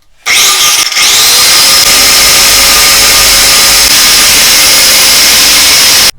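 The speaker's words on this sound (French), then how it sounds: "Bon, alors finalement, je vais le faire avec la meuleuse." An angle grinder spins up and cuts with a loud, continuous high-pitched whine that holds steady, close by, with no talking.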